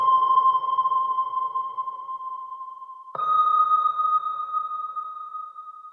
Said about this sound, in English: I paired it with this Sonar sound effect from Ava Instinct